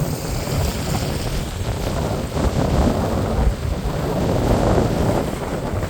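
Rough sea in a cyclone at Kolumbuthurai, Jaffna, where boats are sinking: a loud, continuous roar of surf and gusting wind, with heavy wind buffeting on the microphone and no voices.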